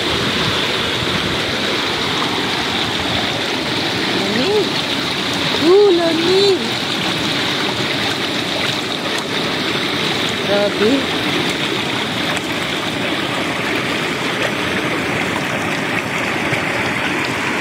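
A river at Mambukal in Bacolod, Philippines rushes in a constant broadband wash close by, with a few brief voices speaking over the cold flowing water.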